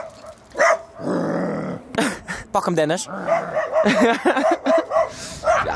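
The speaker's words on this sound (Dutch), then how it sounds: "Komt de hond aan met een noodgang." A dog barks and yips repeatedly as it rushes up, with sharp, close barks in an excited series while people talk and call out over it.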